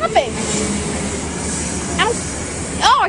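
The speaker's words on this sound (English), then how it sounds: "Oh, this might be the train." A Metro-North commuter train on the Hudson Line pulls into Tarrytown station, a steady broadband rumble and hiss of wheels and motors held throughout, with brief whining brake or horn-like tones rising near the start, middle and end.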